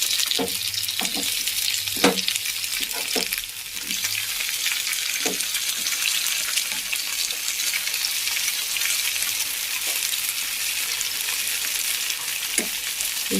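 Chopped onions and tomatoes fry in a pan for a moong dal dish, giving a continuous bright sizzle with occasional soft clinks and scrapes of stirring, close and steady throughout with no talk.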